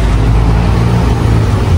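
A car engine runs in a steady, loud, close low drone with no break and no talk.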